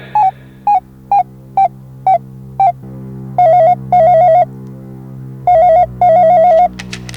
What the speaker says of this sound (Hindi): मित्र शाहरुख जी को फोन मिलाया जाए